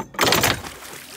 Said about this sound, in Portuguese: Vai jogar dentro d'água, Nath.